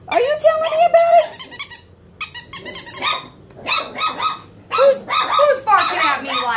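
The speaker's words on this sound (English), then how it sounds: "Who's barking at me like that?" A five-week-old puppy barks and yips in short bursts, close and fairly loud, with a few whimpers and growls mixed in and brief pauses between the outbursts.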